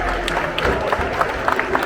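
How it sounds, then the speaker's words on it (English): Brief round of applause and light cheering from an outdoor crowd at a bird show at Disney's Animal Kingdom, scattered claps over a steady crowd murmur with some voices. "Round of applause for the trees."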